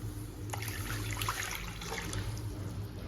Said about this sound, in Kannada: ಬೇಯಿಸ್ಕೊಳ್ಳೋಕೆ ಎಷ್ಟು ಬೇಕೋ ಅಷ್ಟು ನೀರು.